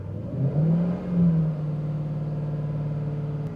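A Jaguar XK8 engine rises in pitch as it revs up, then holds a steady, higher hum, close and fairly loud.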